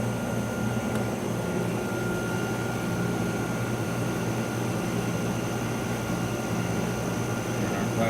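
A Tech 800 II plasma etcher runs with its plasma struck, giving off a loud, steady mechanical drone with a low hum and a broad constant hiss and no change across the whole stretch.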